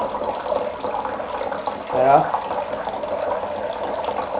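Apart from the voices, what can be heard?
water pouring through a drip system gadget into a bucket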